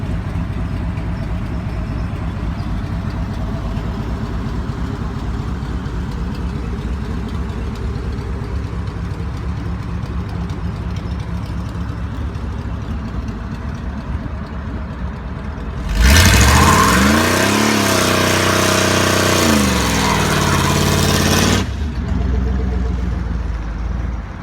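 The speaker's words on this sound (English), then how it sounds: "we put a side pipe on it, and it's running the Flowmaster right now, and it actually has a really good exhaust note" A 1977 Ford Country Squire wagon engine breathing through a Flowmaster side pipe exhaust idles with a steady mid-range rumble, then rises into a loud, close rev for several seconds before settling back to idle.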